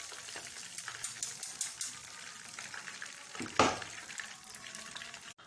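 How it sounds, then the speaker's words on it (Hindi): Pieces of fish frying in oil over a low flame, giving a steady close sizzle with a brief louder burst of crackling partway through. "अल्हम्दुलिल्लाह ये बहुत ही ज़बरदस्त फ्राई हो रही है।"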